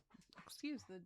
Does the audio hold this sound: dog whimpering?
yes